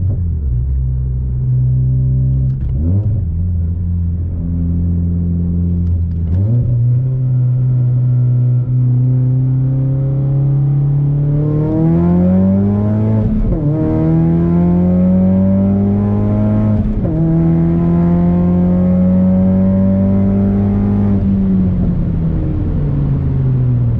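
A Ford Focus ST fitted with a BMR cradle kit pulls hard, its engine note climbing through gears in a loud, steady rumble, with pitch rising and dropping at each shift as it accelerates at high speed.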